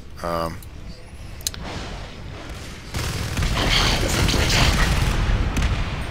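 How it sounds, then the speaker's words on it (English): Grenade launcher blasts from a marine tearing into alien Crags in Natural Selection 2, a dense, roaring wall of booming explosions that swells louder midway and keeps going, with faint voices mixed in. "Sting with this grenade launcher just doing a lot of damage to these Crags"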